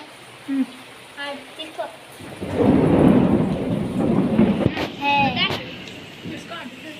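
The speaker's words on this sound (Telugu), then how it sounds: "ఈరోజు అయితే మా ఇంటి దగ్గర వర్షం పడుతుంది" Heavy rain pours steadily while a deep rumble of thunder rolls through, with people talking nearby before and during the downpour.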